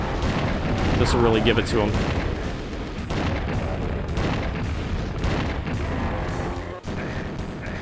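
Weapon fire in the game Doom II, aimed at Barons on MAP21 at Ultra Violence, comes as dense repeated booming blasts throughout, heard under someone speaking.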